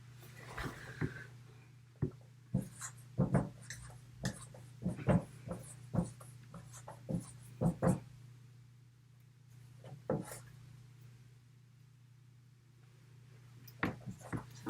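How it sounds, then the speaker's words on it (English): A pen or marker taps and scratches in short strokes while math is written out, irregular near clicks and scrapes over a steady low electrical hum, with a quiet pause midway. "Let's see, I'm going to write this down."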